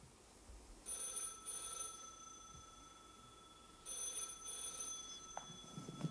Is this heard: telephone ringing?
yes